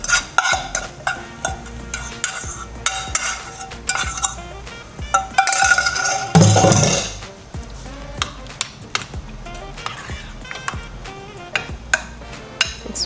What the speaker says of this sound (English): And we're gonna add in our onions and bacon.